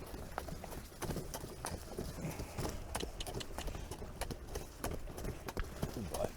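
A horse named Paddy trots along a bush track with rain-washed patches, giving a steady, even clip-clop of hooves close by, with faint voice sounds underneath.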